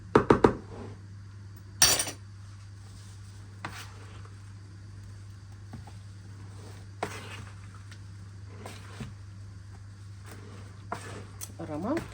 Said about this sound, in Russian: Все, теперь тщательно все перемешаем.